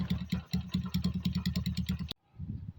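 Up close, a motorcycle engine with an unidentified noise fault idles with a steady, thumping pulse and a slight clatter, cutting off abruptly before a faint rumble resumes.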